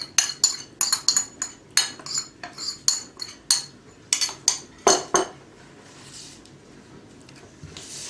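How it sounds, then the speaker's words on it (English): A spatula scrapes and folds chocolate chip muffin batter around a mixing bowl in a steady rhythm of short clinking strokes, close and clear, then fades into a quiet pause with no talking. "I'm scraping round the bowl, cutting through the middle, round the bowl, cut through the middle"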